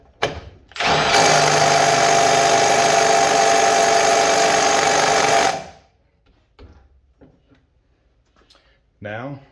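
Milwaukee stubby impact wrench driving a bolt, a loud, close, continuous rapid hammering rattle lasting about five seconds, then stopping, followed by faint handling clatter.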